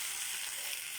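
Sweet potato tops and taro sauté in a pan with a steady, close, hissing sizzle throughout.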